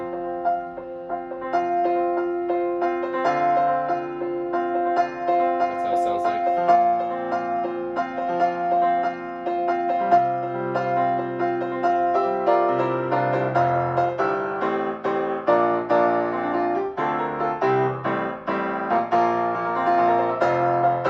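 Built-in demo song of a Yamaha P121 digital piano, a continuous busy piano piece with chords and running melody played at steady moderate loudness throughout.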